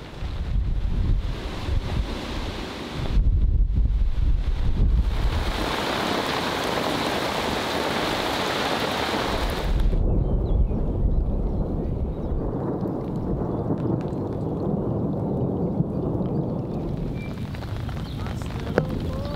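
Strong wind and rain sweep over a lake, gusting loudly and steadily close to the microphone, with a rougher, louder buffeting stretch early on before easing to a constant roar.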